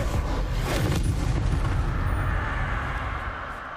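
A Bombarda spell explosion in Hogwarts Legacy booms loud and heavy, then rumbles and slowly fades over a few seconds.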